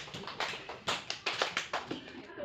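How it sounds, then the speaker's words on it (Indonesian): A classroom claps for a student group: a short burst of applause from several people, uneven and fairly close, lasting about two seconds. "Tepuk tangan dulu buat kelompok satu."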